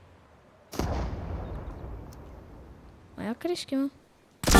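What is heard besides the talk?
gunfire in a video game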